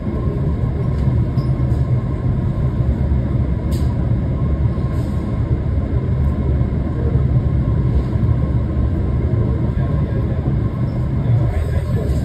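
Boston MBTA Red Line subway train running underground toward Ashmont, a steady loud rumble and rolling wheel noise filling the carriage throughout, with faint high squeals and clicks now and then.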